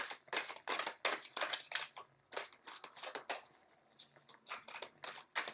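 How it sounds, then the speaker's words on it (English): Someone shuffles a deck of tarot cards by hand, making quick papery riffles and slaps in a steady repeating rhythm close to the listener, with no talking. "I do want you guys to see my shuffle."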